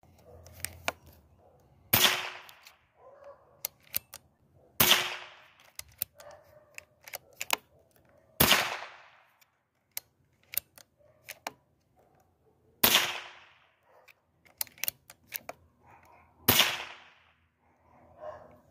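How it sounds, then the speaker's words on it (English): Umarex Origin air rifle firing barrel-cleaning pellets, a series of sharp, fairly close cracks spaced several seconds apart, each ringing briefly, with small clicks and handling noises between shots. "Shooting these through your gun to clean your barrel makes it sound like a .22."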